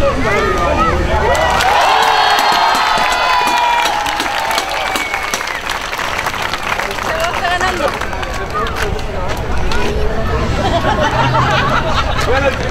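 A loud crowd claps and cheers for a Viking, with whoops and shouting voices rising early, then continuous applause and hubbub.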